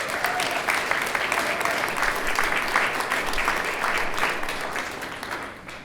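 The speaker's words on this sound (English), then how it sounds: "can we also give a round of applause to the STRYV365 staff" Audience applause at a STRYV365 resilience programming event, a steady wash of many hands clapping held at an even level for several seconds before easing slightly at the end.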